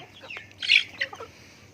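Backyard chickens jostling over feed give a few short, close clucks and squawks over a quiet background, with one sharper call standing out.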